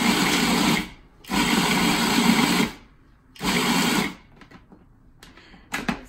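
A food processor pulses grain-free paleo cereal with pumpkin seeds in three loud bursts of about a second each, separated by short pauses, followed by faint rattling as it stops.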